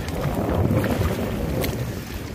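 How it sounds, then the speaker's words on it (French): Strong wind blowing beside floodwater, a loud, steady broadband roar with gusty buffeting against the microphone, continuous throughout and with no voices. "Il y a énormément de vent."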